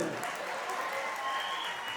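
An audience at a community get-together in Navsari claps, a dense, steady wash of applause filling the whole moment, with a faint voice mixed in.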